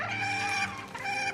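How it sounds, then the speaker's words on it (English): Porg calls for Star Wars built from chicken, turkey and dove sounds: a continuous, close, clucking fowl-like warble with a short dip in the middle, no speech. "Porgs' calls are made up of chickens, turkeys, and doves."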